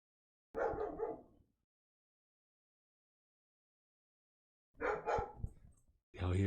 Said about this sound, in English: She's barking in the front room.